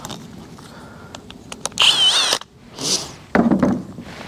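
Short bursts of a power drill spinning a toilet brush, a high whine rising and cutting off, separated by clicks and handling noise, followed by scrubbing bristle sounds on spoke wheels.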